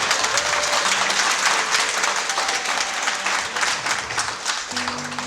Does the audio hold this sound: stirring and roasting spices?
no